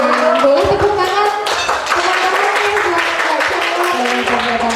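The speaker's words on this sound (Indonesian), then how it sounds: "Boleh maju ke depan. Boleh tepuk tangan." Classroom applause breaks out at a school farewell event in Indonesia as a student is called to the front, mixed with voices and a sustained tone throughout.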